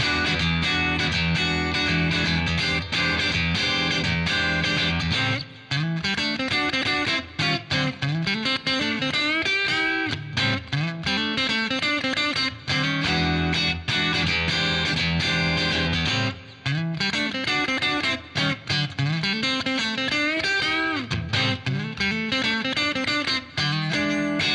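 Mesa Boogie Electra Dyne guitar amplifier played clean and used as a pedal platform, with full strummed chords and picked passages ringing loudly and steadily throughout, brief pauses between phrases, no voices.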